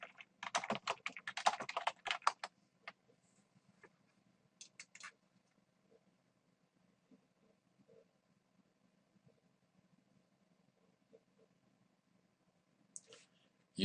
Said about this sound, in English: I go to the keyword tool and I type in a keyword like